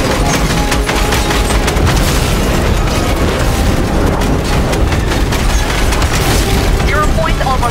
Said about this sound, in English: Those crystals will detonate the zero point.